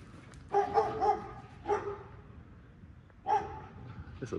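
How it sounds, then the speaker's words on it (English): A big black dog barks outdoors in a park, two short bursts of deep barks with a gap between, moderately close over low background noise. "It's a big old black dog barking at him."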